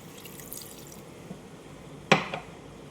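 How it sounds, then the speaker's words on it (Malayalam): A glass of water poured into duck meat in a pressure cooker, one short close splash with a brief trickle after it, against quiet room noise and no talk. "അതിലേക്ക് ഒരു ഗ്ലാസ് വെള്ളം ഒഴിക്കും"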